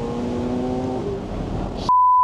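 McLaren 750S Spider, a convertible supercar with its roof down, accelerating uphill: a loud, steady engine drone with rising harmonic tones for about two seconds, cut off abruptly by a sharp pure electronic beep.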